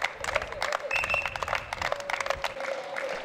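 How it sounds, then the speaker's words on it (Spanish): Applause and cheering greet riders at a symbolic finish line of a Special Olympics cycling march in Lugo, a dense, steady outdoor clatter of hands with a faint whistle-like tone running through it. "Aplausos y parabéns na chegada a meta simbólica"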